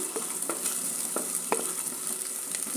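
Squid (koonthal) for a roasted-coconut curry sautés in a hot pan, a constant sizzle broken by a series of sharp spoon or spatula scrapes and knocks as it is stirred.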